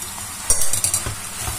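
Vermicelli added to a hot pan and stirred, with a brief burst of sizzling and light scraping clinks, close and moderately loud.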